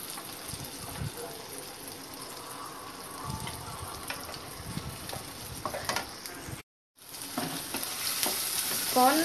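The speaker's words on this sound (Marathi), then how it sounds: "कॉर्न कॅप्सिकम आपण थोडे शिजवून घेणार आहोत, खूप जास्त नाही शिजवायचं आहे।" Corn and capsicum frying in a pan for white sauce pasta, sizzling steadily while being stirred, close and moderate, with a brief dropout before the sizzle returns louder.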